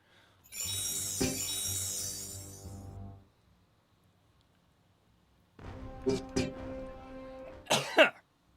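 Two bursts of harsh, raspy coughing from vapor with a pause between, close and fairly loud, the second ending in a strained throaty sound.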